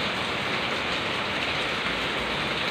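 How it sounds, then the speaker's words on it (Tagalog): Heavy afternoon rain pours down steadily, a dense, even hiss of drops on surfaces that stays loud and unbroken from start to finish, with no voices. "ang lakas ng ulan"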